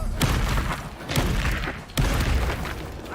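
Incendio fire spell cast during combat in Hogwarts Legacy, three heavy booming whooshes spaced about a second apart, each a loud burst that trails into rumbling fire noise, with no talk.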